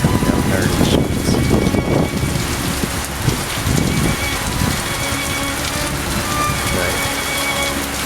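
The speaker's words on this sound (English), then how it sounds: "Rain is still coming down hard in sheets." Heavy rain pours down in sheets during a strong wind storm on the west side of Saginaw, Michigan, a steady dense hiss of downpour with gusting wind throughout and a brief voice near the start.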